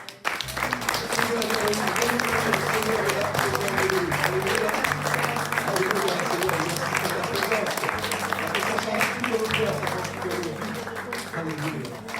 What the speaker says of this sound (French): Alors on va applaudir quelques instants